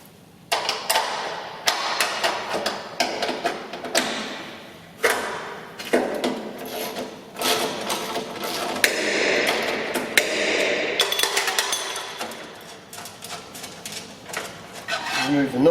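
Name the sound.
spanner and ratchet removing bearing nut and bolt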